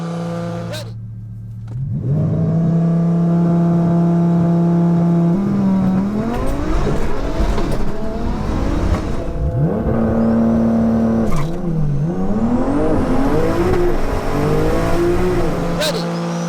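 Two 1500bhp cars, a Porsche Turbo S and an Audi R8, in a drag race: loud engine roar rising and falling through repeated revving and gear shifts, close and dominant, with a brief quiet lull at the start.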